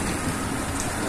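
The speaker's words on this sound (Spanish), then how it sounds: "Llueve en Siloé, llueve en la comuna 20, llueve en Cali, llueve en el Valle, llueve en Colombia." Steady rain falls over Siloé, comuna 20, in Cali, Colombia, a dense, even hiss of drops on surfaces that continues unbroken throughout with no voices.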